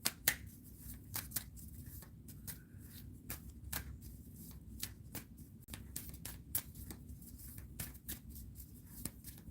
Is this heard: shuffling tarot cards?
yes